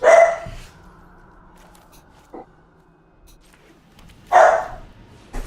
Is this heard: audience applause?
no